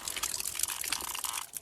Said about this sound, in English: If you've never drank water from a hose, you haven't lived.